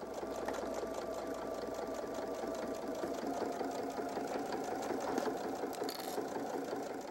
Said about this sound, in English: we're going to sew directly on top of the previous stitches